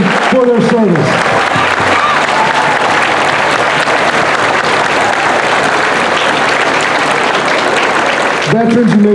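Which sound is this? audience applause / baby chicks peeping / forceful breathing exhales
audience applause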